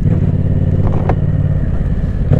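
A Yamaha Tracer 700 motorcycle engine runs close by with a steady low rumble, a short clunk and rev change partway through as it shifts into third gear.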